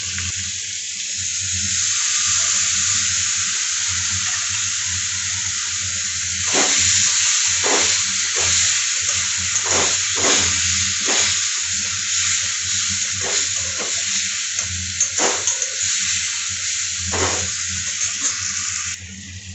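Spice paste of salt, turmeric, chili, cumin, coriander and garam masala mixed in water hisses steadily in a hot pan with ginger paste for a soybean curry, with repeated stirring scrapes throughout.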